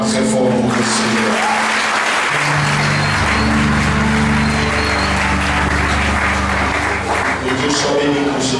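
Church congregation applauding loudly at a Sunday worship service, a dense, steady wash of clapping from many hands with cheering voices and a sustained musical tone beneath, continuing throughout.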